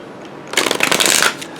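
Tarot cards riffled in a fast, crisp burst of shuffling lasting about three-quarters of a second, close and alone after a quiet start.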